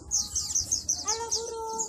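Small birds at a bird shop chirp in quick, repeated high tweets through the clip, fairly close, with a voice faintly mixed in underneath.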